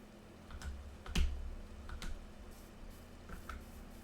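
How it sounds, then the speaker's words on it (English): Sparse, soft clicks of computer keyboard keys, a few separate taps with brief gaps, quiet against a low background hum while Minecraft is being played. "Come on, keyboard, just last a little longer."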